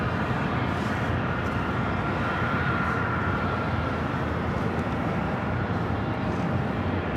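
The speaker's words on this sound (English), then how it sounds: "Swiss Flight 41 heading to Zurich at 777-300ER. Up next for takeoff on the south side." Swiss Boeing 777-300ER jet taking off at Los Angeles International Airport, a continuous broad engine roar held steady and fairly loud, with no talk over it.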